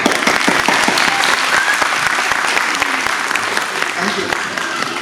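A school annual function audience claps loudly and continuously, many hands close by in a dense, even patter that slowly eases, with a little crowd murmur underneath.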